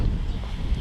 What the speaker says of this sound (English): As usual, it's windy.